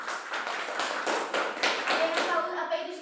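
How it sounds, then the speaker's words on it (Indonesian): Classroom applause for a student during a maths lesson, a quick burst of children's hand claps and taps, fairly close and steady, with voices of kids talking underneath toward the end. "tepuk tangan untuk Dwi"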